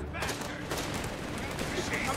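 Dense gunfire crackles from the video game Company of Heroes 3 during a Naples capture battle, a continuous fusillade of overlapping rifle and machine-gun bursts with shouting voices mixed underneath.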